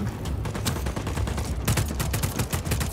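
Dense bursts of automatic gunfire in the video game Just Cause 4, rapid overlapping shots crackling steadily for about three seconds with no talk over them.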